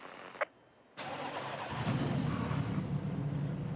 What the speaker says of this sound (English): I love that engine start sound.